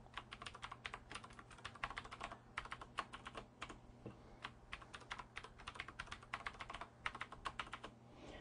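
Rapid typing of a password on a computer keyboard during a Zorin 7 64-bit Linux install, with dense, irregular clusters of crisp key clicks throughout and no talk.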